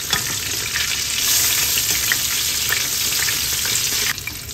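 Chicken pieces fry in hot oil in a pan or pot, a loud, steady crackling sizzle with scattered pops throughout and no talking.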